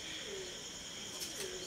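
Soft, low pigeon coos repeat twice against a steady hissing background, fairly faint and without any talking.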